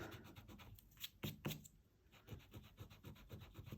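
A Mono eraser is rubbed back and forth across card for a handmade Christmas card, giving soft, rhythmic, scratchy strokes that are very close and quiet, with a brief pause midway.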